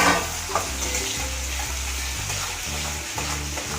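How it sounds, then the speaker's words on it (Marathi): Curry leaves and green chilli fry in hot oil in a pan, giving a continuous close sizzle that crackles steadily and then softens. "कढीपत्ता मी टाकून घेतला आहे मी आता त्यात टाकणार आहे मिरची"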